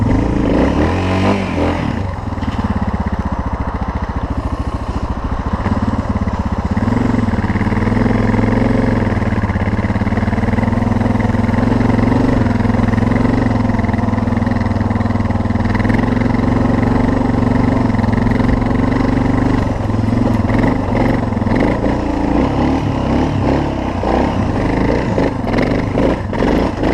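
A Suzuki DR650 off-road motorcycle churns through mud, its engine droning loud and close with a sustained revving growl, surging and easing as it turns and builds speed toward a hill, with no voices.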